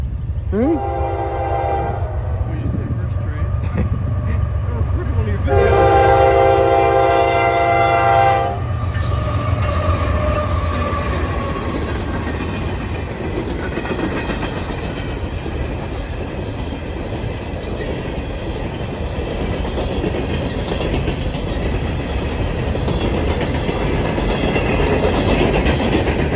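A CSX freight train led by an SD70MAC locomotive, a manifest followed by a fast empty coal train, passes close by at Snouffer Rd, sounding its horn in sustained blasts before a long, loud rush of rolling wagons and rail noise.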